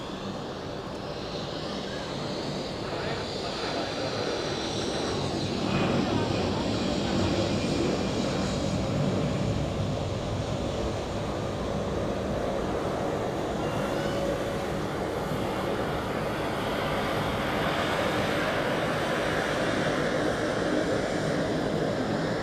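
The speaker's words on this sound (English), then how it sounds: "coming from the left, we have an Helvetic Embraer 190 to Vienna" A Helvetic Embraer 190 jet taxis at Zurich Airport, producing a steady, moderately loud broadband engine roar that holds continuously throughout with no talking.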